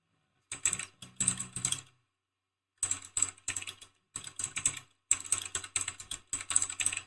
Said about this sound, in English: Kid got me this keyboard, so clickety, I don't know why.